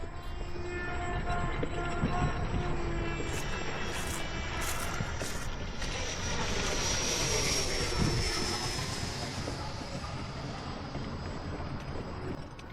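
FMS F86 Sabre 80 mm electric ducted-fan RC jet flying overhead with a loud continuous whine and roar that swells and shifts in pitch as it passes, steady throughout with no talk.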